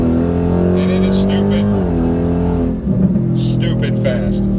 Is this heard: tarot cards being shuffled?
no